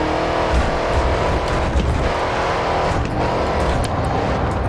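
Race car engines in the GRID 2 video game roar continuously at high volume, with sustained revving and a steady dense engine drone throughout.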